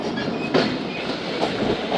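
The Thal Express rolls along the rails between Kalur Kot and Pipla, a loud steady rumble with rhythmic clicks from the wheels crossing joints, heard from on board.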